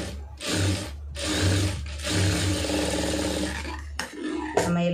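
A sewing machine runs in bursts while stitching a lining blouse, close and loud, with a steady mechanical whir broken by brief pauses.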